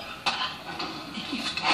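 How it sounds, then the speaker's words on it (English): A baking tray of cookies comes out of an oven with a sharp metallic clank, followed by soft scraping and rattling of metal pans and utensils close by. "cookies are just coming out of the oven."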